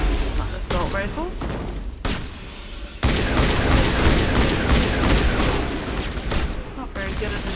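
Enemy gunfire in a video game crackles in dense volleys, bursts of shots and booms piling over one another, loud and continuous with short gaps.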